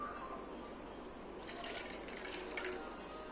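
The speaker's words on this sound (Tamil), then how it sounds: "நான் ஒரு பாத்திரத்தில் ஒரு அரை கிளாஸ் தண்ணி ஊற்றிக்கிறேங்க." Half a glass of water poured into a kitchen vessel, a soft steady trickle and splash that swells slightly midway, quiet and close with no talking.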